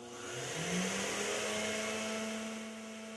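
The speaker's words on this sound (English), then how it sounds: "Once the gas begins to flow with the blower at low speed" A gas blower running on its low setting, giving a steady motor hum with a rising tone as it spins up, then holding a constant whine at moderate loudness.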